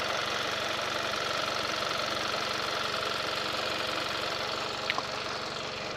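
A 1.6-litre turbocharged Hyundai Veloster engine idles steadily with the hood open, a smooth, even hum with a faint regular tick and one small click near the end, no voices.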